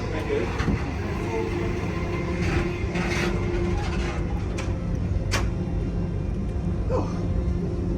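A steady mechanical rumble of a train climbing uphill in the Blue Mountains fills the clip, with occasional clicks and rattles, constant and fairly loud throughout.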